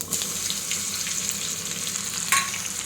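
Cumin and mustard seeds fry in hot oil for a fenugreek chutney, a steady close crackling sizzle with a few brighter pops, no voices.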